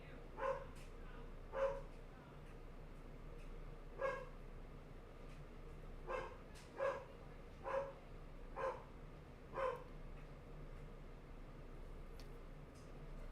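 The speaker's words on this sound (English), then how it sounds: "He's still barking." A dog barks loudly in repeated single barks spaced a second or two apart, with a steady background hiss and a hockey game broadcast murmuring faintly underneath.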